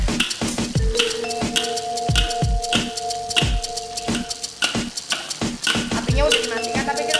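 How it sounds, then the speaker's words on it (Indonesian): Salted egg chicken being stirred in a pan with the heat switched off, a spatula scraping and clinking against the metal in steady repeated strokes, close and fairly loud, with faint sizzling beneath. "Apinya udah dimatikan, tapi kita tetap aduk ya guys."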